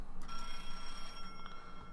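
A telephone rings with an incoming call, faint warbling electronic bell tones pulsing in a quick repeated rhythm against a quiet background.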